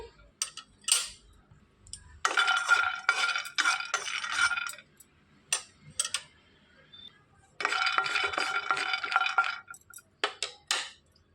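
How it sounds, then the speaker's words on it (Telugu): A tablespoon of peanuts dry-roasting in a pan on a lit stove and being stirred: two long bursts of dry rattling and scraping, with scattered clinks and taps of the utensil between them. "స్టవ్ వెలిగించి ప్యాన్ పెట్టేసుకొని ఒక టేబుల్ స్పూన్ పల్లీలు వేసుకొని వేయించుకోవాలి"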